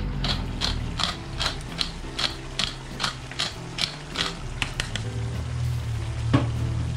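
A pepper grinder cranks black pepper in a quick series of crisp, ratcheting crunches, close and clear, over a faint sizzle in a beef bistek kitchen.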